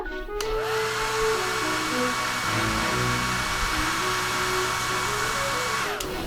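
A hair dryer blows in a loud, continuous whoosh with a steady motor whine, clicking on at the start and cutting off near the end, close by with no talk over it.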